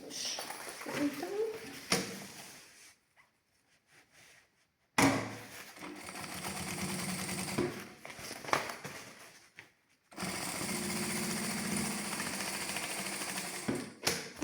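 A sewing machine runs stitching the side seams to hold a structuring lining, in bursts of rapid rattling separated by silent pauses, with someone talking nearby.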